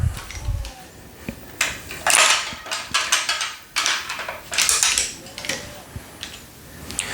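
Racket string is threaded through the grommets of a 2018 Wilson Pro Staff V12 during stringing, making close, dry rasps and plasticky scraping bursts in irregular pulls.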